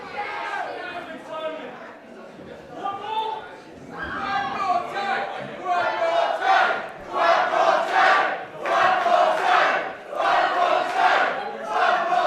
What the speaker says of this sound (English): This crowd of savages calling for another hellacious kick.